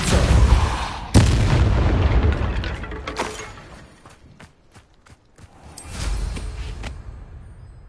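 Spell impacts from the Catapulto spell in the video game Hogwarts Legacy land as heavy booming thuds, a big blast near the start and another about a second later, then scattered smaller hits and a final rumble.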